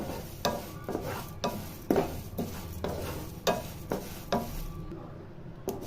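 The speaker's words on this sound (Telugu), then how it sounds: "ఇందులోనే కొన్ని నువ్వులు యాడ్ చేసుకోవాలి ఫ్రెండ్స్ ఇవి కూడా స్లిమ్ సిమ్లో పెట్టే వేయించుకోవాలి" Sesame seeds frying on low heat in a pan with curry leaves, a steady close sizzle broken by repeated scraping stirs at roughly one-second intervals, with no talk.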